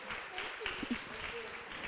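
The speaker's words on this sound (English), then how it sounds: "Can we get a round of applause for them?" Audience applause at a talk show event, a quieter patter of clapping with a few cheers mixed in, running briefly at moderate level.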